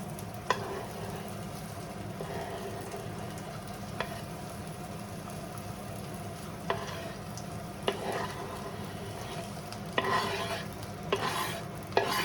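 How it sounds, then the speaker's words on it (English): Rice and yellow tomatoes sizzle steadily in a pan for a risotto, with a spoon stirring and scraping in occasional sharp clicks against the pan, close and fairly loud, with no one talking. "Now, that's sizzling. Let's go in with our tomatoes."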